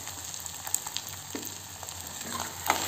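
Liver masala frying in a pan with steady close sizzling, while it is stirred with a few scraping clinks through the crackle.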